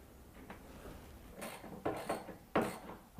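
A ratchet tightens the center bolts during pool table assembly: a few quiet metallic clicking bursts toward the end, faint and close, with no talk.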